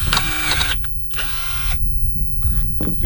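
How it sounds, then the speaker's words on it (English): A power drill whirs loudly in two bursts of about a second each while drilling through wood, with short quiet gaps and a faint mechanical clatter afterward. "You want to drill through the wood"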